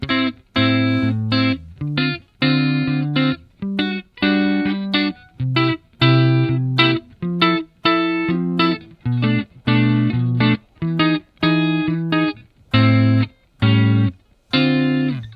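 Electric guitar plays a sequence of ringing chords, each struck and held briefly with short gaps between, in a steady rhythmic pattern, loud and close.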